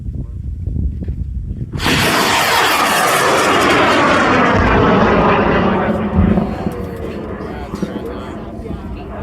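A high-power full-scale sounding rocket with two stages ignites and launches. After a quiet start there is a sudden loud roaring blast, which holds strong for several seconds and then fades as the rocket climbs away, with people talking nearby.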